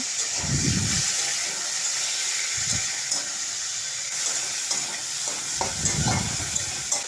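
Large prawns fry in a pan with a continuous close sizzle and hiss, broken by a few low rumbling bursts and occasional stirring clinks, with no speech.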